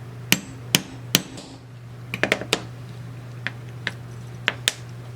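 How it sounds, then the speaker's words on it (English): Sharp metallic hammer taps setting a rivet on a leather keychain, in small clusters, about a dozen strikes spaced irregularly, over a steady low electrical hum. "I'm going to put something under that and then hammer down"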